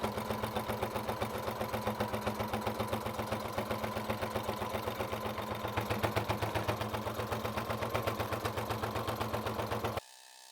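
A sewing machine stitches the seam of a vinyl boot cover, running in a steady, fast mechanical rhythm of needle strokes for about ten seconds before stopping abruptly.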